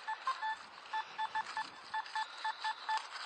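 A Simplex metal detector sounding a series of short, clean electronic beeps over a silver ring, pulsing irregularly in quick bursts above a faint background hiss.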